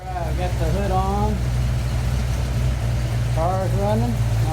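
A 1966 Ford Mustang GT, freshly rebuilt, idles with a steady low rumble that stays loud and even throughout, and a voice speaks briefly over it.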